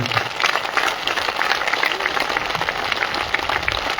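A crowd at a religious satsang gathering applauds loudly, a dense, sustained patter of many hands clapping at full strength throughout.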